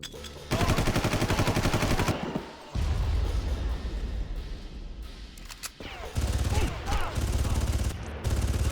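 Rapid gunfire from assault rifles in the Far Cry shooter game, loud bursts repeating across the clip against armored elite troopers, with brief gaps between volleys.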